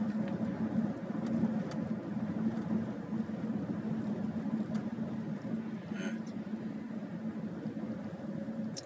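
Volvo S60 1.5 T3 petrol automatic coasting off the throttle on a rough road, giving a steady low hum of engine, tyres and road noise inside the cabin, constant and moderately quiet.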